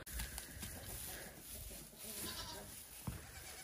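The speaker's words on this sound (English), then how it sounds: "I wanna show y'all the baby goats because they're super cute" Baby goats on a farm bleat faintly in a few short calls over a quiet, noisy outdoor background.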